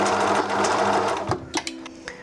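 Sewing machine stitching elastic onto homemade underwear fabric with a zigzag stitch, a steady close mechanical whirr for most of the clip, then slowing into a few short separate bursts at the end.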